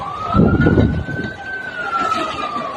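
A fire brigade vehicle's siren wails loud and close at a slum fire near a railway track in Mumbai, a steady rising-and-falling tone over engine rumble and street noise.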